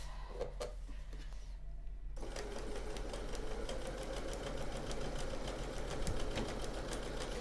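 A sewing machine stitches quilt seams in a steady, close mechanical whir with rapid needle ticks, running continuously without talk.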